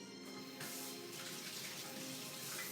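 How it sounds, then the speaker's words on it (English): A kitchen tap runs steadily while hands are washed beneath it, a soft, continuous splash and hiss with a slight change in the flow partway through, fairly quiet and close, with no talk. "let me wash my hand."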